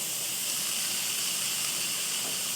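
Steam hisses out of an Instant Pot pressure cooker during release after about 22 minutes of natural release, a steady, even, close-up whoosh with no talk.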